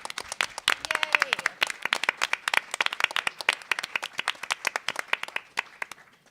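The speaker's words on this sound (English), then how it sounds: "please, let's applaud the audience." Audience at a League of Women Voters candidate forum for an Illinois House district breaks into brisk, dense clapping that carries on steadily for several seconds, with scattered voices cheering underneath.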